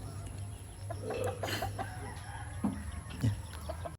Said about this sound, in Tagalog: So meron mga manok dito. Manok yun ni tatay.